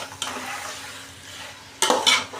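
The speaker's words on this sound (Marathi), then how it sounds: "मटण हे चांगलं तेलावरती चांगलं कांद्यावर असं परतून द्यायचं" Mutton sautés in hot oil with onions and masala over a high flame, a steady close sizzle broken by a couple of sharp scraping stirs of a spatula in the pan.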